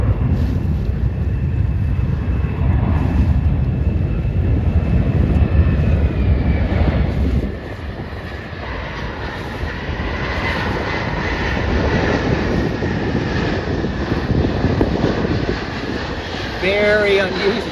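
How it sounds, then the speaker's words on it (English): A fixed-wing airplane passes over sailing waters on its landing approach, its engine a steady droning roar that fills the whole stretch, mixed with wind buffeting the microphone. "It's very unusual for planes to come from over there."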